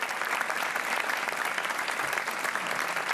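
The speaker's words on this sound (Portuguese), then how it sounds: "Um aplauso para o João Pedro" Sustained audience applause in a Portuguese television game show studio, a dense steady wash of clapping filling the whole stretch with no voices over it.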